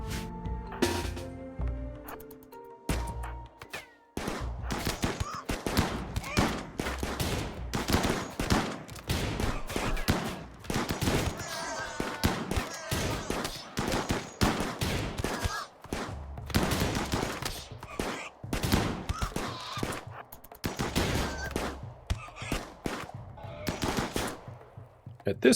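Shotgun and revolver fire crackles in rapid, overlapping bursts during a RimWorld firefight, nearly continuous after a quieter opening, with a voice speaking beneath it.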